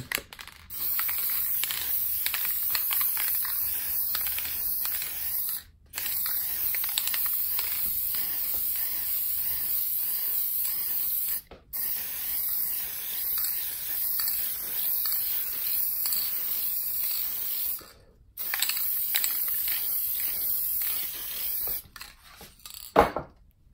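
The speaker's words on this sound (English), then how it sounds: "on this we use the Grumbacher matte fixative" Long hissing bursts of Grumbacher matte fixative sprayed from an aerosol can onto an oil pastel drawing, three sustained sprays broken by short pauses, close and loud, ending in a few quick spurts.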